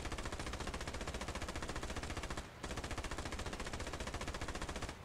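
A turret machine gun in the WW2 video game Ravenfield fires in rapid, continuous bursts, loud and close, with one brief pause midway before the fire resumes.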